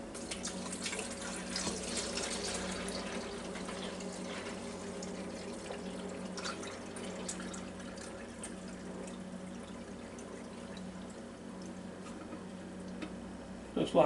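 Water pours steadily into a Mr. Coffee coffee maker's reservoir for several seconds, a continuous splashing trickle with a low hum underneath and a brief clatter at the end.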